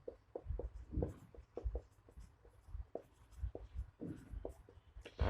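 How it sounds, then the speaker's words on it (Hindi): Pen or chalk scratches and taps across a board in a quiet classroom lesson, giving soft irregular strokes and knocks close by with no talking. "थोड़ा सा यहाँ पर बड़ा लिख देते हैं।"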